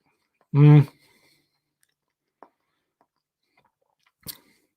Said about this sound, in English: I just want to see how quickly I normally chew a gummy bear and swallow it.